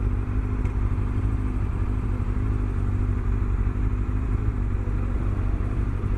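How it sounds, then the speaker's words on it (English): A vintage Kawasaki motorcycle with a fairly large engine idles or runs nearby on a Kyoto street, a steady low rumbling drone with a constant engine note, alone. "Looks like a vintage Kawasaki though. Engine looks quite big actually."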